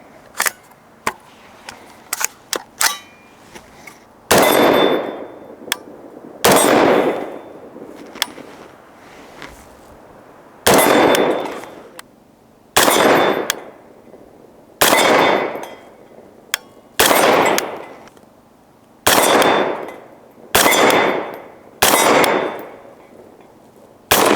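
A suppressed 6mm ARC AR-15 rifle fires about ten loud, evenly spaced shots outdoors, each a sharp crack with a short decaying tail. A few quieter metallic clicks come before the string of shots.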